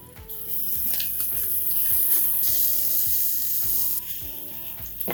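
Crushed ginger, garlic and green chilies sizzle steadily in hot tempering oil with asafoetida and curry leaves for a methi khichdi, a close, continuous frying crackle broken by occasional stirring clinks, with no voices.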